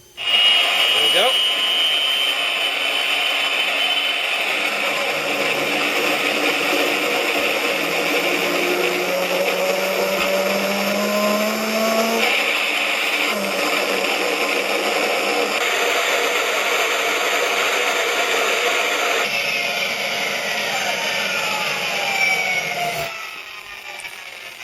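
A MrRCSound sound module plays an RC engine startup effect: a short burst at the start, then a continuous synthetic engine idle with faint pitch sweeps that runs steadily before cutting off near the end.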